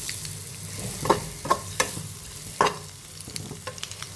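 Eggs frying in a pan, lightly salted, give a soft steady sizzle, and a few sharp scrapes or taps of a spatula or spoon against the pan stand out. No one speaks.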